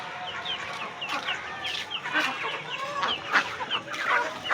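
A hen clucks repeatedly in short, uneven bursts, fairly close, with other fowl faintly in the background and no talking.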